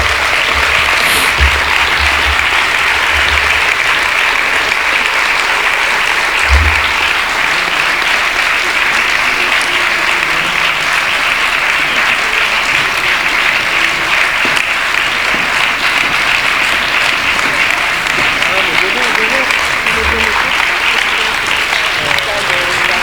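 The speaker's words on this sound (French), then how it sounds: "afin qu'ils puissent recevoir les applaudissements qu'ils méritent" Applause fills a closing speech at an occupational-health conference in Dijon as the service team is honoured. The audience claps loudly and steadily the whole way through, with crowd noise mixed in.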